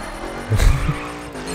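A Mercedes C63 AMG in The Crew racing game loses grip on snow, a brief burst of tire squeal and engine roar rising out of a steady driving hum and then fading back.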